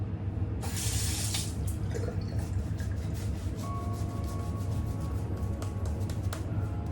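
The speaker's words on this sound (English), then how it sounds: "I'm applying more water and making this foam even better" Tap water runs steadily and close, splashing into a sink while shaving foam is worked up for a cut-throat shave, with a sharper spray burst near the start and faint clinks through the flow.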